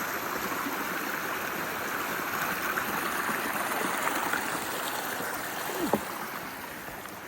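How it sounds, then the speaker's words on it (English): A flowing creek at a rainy, slippery trail crossing near Bluff Mountain, giving a steady broadband rush of water that stays constant and fairly close, with a small splash or knock near the end. "So coming across our first creek crossing"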